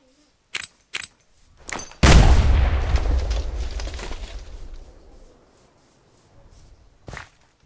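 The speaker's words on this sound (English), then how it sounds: "Now I want to test the anti-tank mines." Anti-tank mines in the Minecraft Superb Warfare mod set off one loud booming blast that rumbles away over several seconds, preceded by a few sharp clicks or steps and followed by another brief knock.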